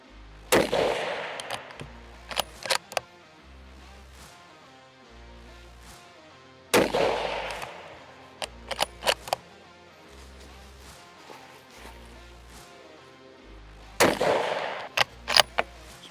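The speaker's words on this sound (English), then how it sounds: "We're gonna shoot out of the Christensen MHR." A Christensen Arms MHR rifle in 6.5 PRC fires Hornady Match 147 grain ELD-M rounds. Three loud, sharp reports come several seconds apart, each followed by quick metallic clicks of the action between shots, over a low background hum.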